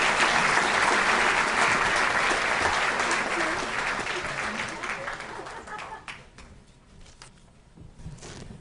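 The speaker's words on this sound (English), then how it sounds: "A round of applause for Dr." Loud applause from a dinner crowd at an annual prostate cancer fundraising dinner, as a doctor is welcomed to the podium. Dense clapping holds steady for several seconds, then thins out and fades to scattered claps.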